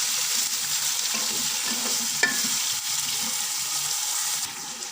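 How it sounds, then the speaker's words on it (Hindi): Chicken frying and being stirred in a pot while making biryani, a steady sizzle running throughout with scraping stirs of the spoon, close and continuous. "अच्छी तरह से मिक्स करके अच्छी तरह से इसको फ्राई कर लेंगे"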